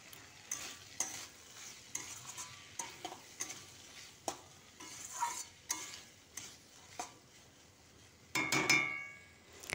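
Chickpea and potato curry stirred and fried in a pan after turmeric and salt go in, giving repeated scraping strokes over a steady low sizzle, with a louder burst of frying near the end; no talking.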